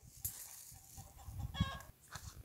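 Chickens cluck and squawk in a noisy yard, with a sharp burst of agitated calls near the middle and a few scattered thumps.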